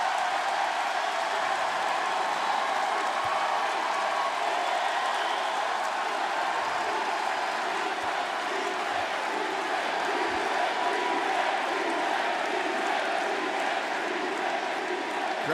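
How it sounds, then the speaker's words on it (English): A wrestling arena crowd cheers and applauds in a steady, loud roar of massed voices and clapping that holds without a break from start to finish. "Crowd loves it."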